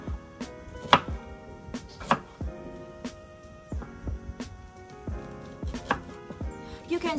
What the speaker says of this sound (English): So I get a few slices of ginger. Then I cut it into slices.